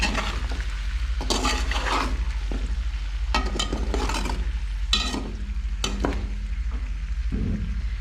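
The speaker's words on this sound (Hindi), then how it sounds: "तो इस चिकन को भी हम फ्राई कर लेते हैं प्याज़ों के साथ" Chicken fries with onions in a karahi pan, a continuous low sizzle broken by several scraping stirring strokes of a utensil against the metal, close and fairly loud, with no talking.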